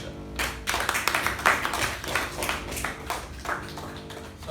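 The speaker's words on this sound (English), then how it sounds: "So a round of applause to our table topics master." Meeting audience clapping for the table topics master, a modest group of hands patting in an uneven burst, close and moderately loud, with some tapping knocks mixed in and no talk.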